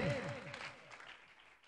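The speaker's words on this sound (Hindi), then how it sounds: "यसु के जलाल के लिए जोरदार तालियां" Applause from a church congregation, loud at first and gradually fading over a second and a half, with some tonal voices or music trailing at the start.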